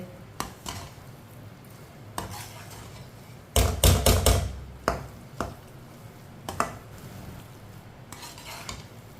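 Semolina halwa with jaggery is stirred and cooked in a pan, with a spoon scraping and clinking against the metal in irregular bursts, including a dense cluster of knocks midway, over a low background hiss.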